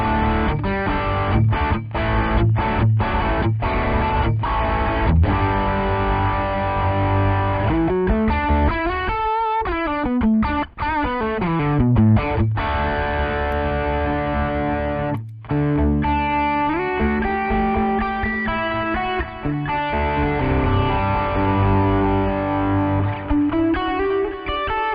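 Heavily distorted electric guitar through a Boss Katana amp plays chunky chords and sliding riffs, loud and continuous with brief pauses.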